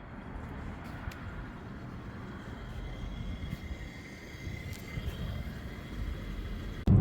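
A BMW F80 M3 with a six-speed manual idles in place, giving a steady low rumble that holds evenly throughout before a sudden loud knock at the very end; no voices.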